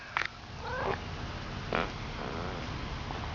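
A cat in a backyard gives a few short meows and a drawn-out caterwaul, fairly close and fairly quiet, over a low outdoor background with no speech.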